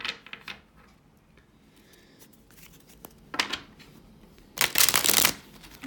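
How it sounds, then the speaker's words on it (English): Tarot cards being shuffled and drawn during a love reading, a few soft riffling bursts and light handling rustles, the loudest shuffle near the end, close and alone with no talking. "Let me pull some cards out for you."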